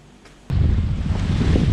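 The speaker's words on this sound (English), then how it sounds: "it's blowing, it's windy out here, it's pretty rough" Strong wind at sea buffets the microphone with a loud, steady low rumble, starting suddenly after a quieter moment and mixed with rough water noise.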